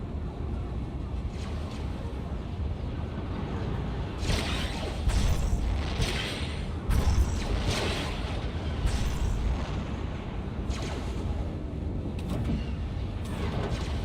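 Missile pod explosions in Star Wars: The Old Republic burst as dense booming blasts, several heavy hits landing in a loud continuous barrage of game battle noise with no talk.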